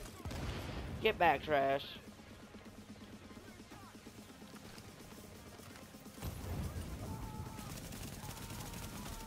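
Bursts of gunfire in a Dark Zone video game shootout, a short loud volley early on, then quieter shots trailing off under a voice.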